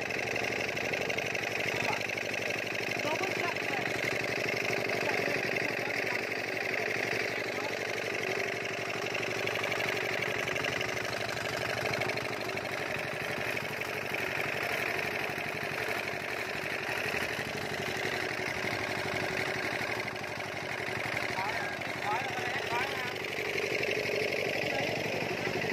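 A mini tiller engine with a worn connecting-rod bearing runs steadily and close by, a continuous loud drone with a faint knocking edge that holds throughout with no speech.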